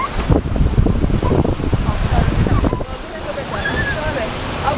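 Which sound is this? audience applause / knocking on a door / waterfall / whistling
waterfall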